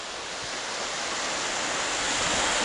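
Strong wind roars over steady crashing surf on a beach, a dense, continuous wash of noise that swells slightly louder toward the end.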